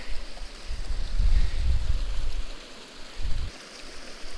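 A small creek feeding into a deep pool on a trout stream, its steady broadband rush of flowing water mixed with low wind rumble, swelling in the middle and again near the end, with no talking.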